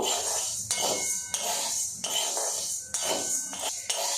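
Sago pearls dry-fried without oil in a pan, stirred continuously with rhythmic scraping strokes about every half second over a steady hiss.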